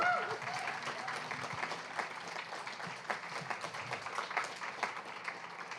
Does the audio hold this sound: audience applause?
yes